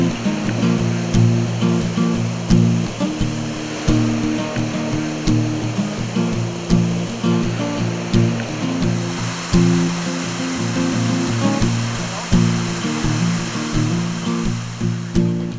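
Rushing water of the Escanaba River at spring levels, a continuous broadband roar heard close by, with a low, pulsing musical drone layered over it throughout.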